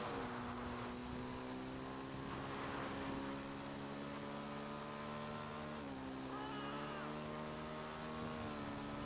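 An off-road motorbike engine in GTA Online drones steadily, with a brief dip in pitch partway through as it shifts or revs again, loud and continuous throughout.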